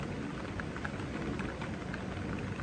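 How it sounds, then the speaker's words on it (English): Steady rain falling outdoors, a dense continuous hiss of drops with no break, close and even throughout, no voices. "It's raining out here."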